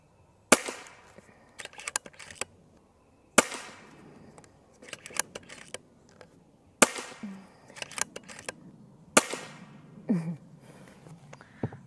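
Sharp, crisp shots from a Stoeger XM1 Ranger .25 PCP air rifle crack out alone at spaced intervals, each followed by brief clicks and handling noise, five or so shots in all.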